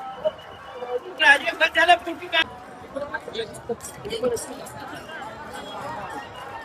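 Crowd chatter and babble from pilgrims at the palkhi procession in Dive Ghat, outdoors, with a burst of nearby voices and claps early on, then a steadier murmur of many people.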